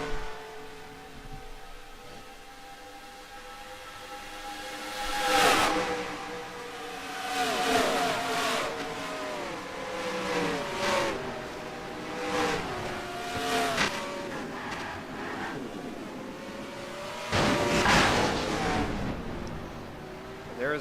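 A multi-car wreck at the start-finish line in a Nationwide Series stock car racing video game, with engines roaring and revving as cars pass, sharp crash bursts and a heavy impact near the end, continuous and loud.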